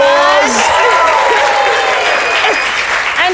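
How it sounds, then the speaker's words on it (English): Studio audience at a live comedy show applauding loudly and steadily, dense clapping filling the room with a few cheers and voices mixed in. "The way the audience clap for themselves."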